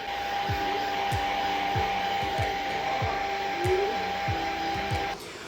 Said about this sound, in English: I also used a blow dryer on the low setting